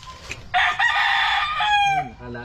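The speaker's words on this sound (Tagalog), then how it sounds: "Dami kong manok." A rooster crows loudly and close, one long drawn-out call, followed by a few short clucks from chickens, with quiet background noise before.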